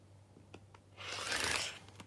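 A cutter slicing through quilting fabric, heard as a short rasping swish lasting under a second, preceded by a few faint taps and handling noises.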